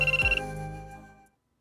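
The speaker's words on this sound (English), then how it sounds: "Right then, my phone started to ring." A mobile phone rings in the If My Heart Had Wings visual novel game, a short bright electronic ringtone chime that decays and fades to silence within about a second.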